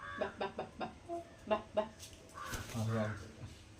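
A chicken clucks in short repeated bursts close by, followed by a person talking.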